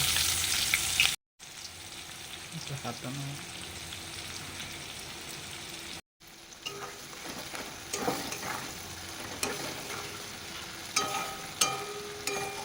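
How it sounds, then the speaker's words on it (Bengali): Chopped onion dropped into hot oil with whole cumin seeds, a bright burst of sizzling that settles into a soft, steady fry with occasional crackles and stirring scrapes. "এবার আমি পেঁয়াজ কুচি দিয়ে দিচ্ছি।"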